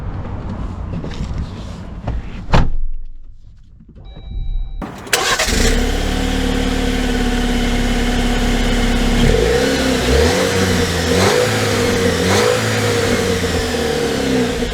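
A 2024 Jeep Wrangler Rubicon with a Warn winch cranks over and starts, then settles into a loud, steady engine drone with a few rising revs as it pulls away, heard up close with nobody speaking.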